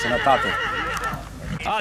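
A horse at a horse fair in Bradu, Sibiu, gives a loud, close whinny near the start and again at the end, with hoof clops and people talking over it.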